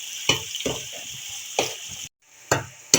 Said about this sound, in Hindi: प्याज को हमने ब्राउन नहीं करना, इसको हमने थोड़ा सा फ्राई करना है।